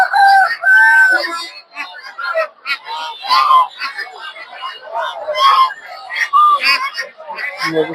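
Chickens cluck and a rooster crows loudly nearby, with overlapping bird calls and people chattering in the background at a poultry market selling ducks, turkeys, chickens and pigeons in Tongi, Bangladesh.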